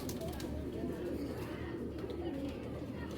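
Giribaz pigeons, an old breed kept in cages for sale, coo in low, soft, repeated calls over a constant background hum.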